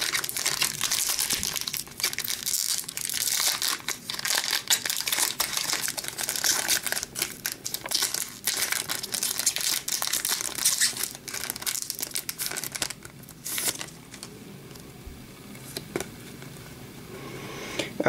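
Foil wrapper of a Tim Hortons Upper Deck 2015-16 hockey card pack crinkling and tearing open up close, a loud continuous rustle and rip that eases slightly near the end.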